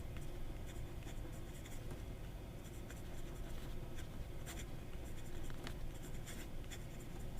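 Fine-nib fountain pen, a Montblanc 146 lookalike, writing on paper: soft continuous scratching with faint strokes and taps over a constant background hiss, close-up and without talk.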